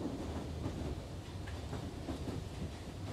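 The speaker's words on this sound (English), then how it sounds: "What is this transport? Yeah, so I guess it is a train." A moving train in The Outlast Trials rumbles steadily with a low, continuous rolling roar and faint rhythmic clatter, heard alone with no talking.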